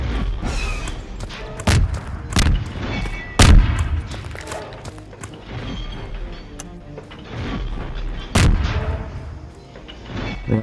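Blaster artillery barrage in Gmod Star Wars The Clone Wars roleplay on Geonosis, repeated loud booming shots and heavy thuds at irregular intervals over a rumbling battle background.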